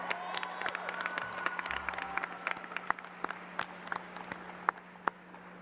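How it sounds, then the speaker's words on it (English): Applause at a high school graduation ceremony, scattered clapping from a distant, large crowd in a big hall, thinning into sparse individual claps over a low steady hum. "give your parents a round of applause for everything they've done to help you out"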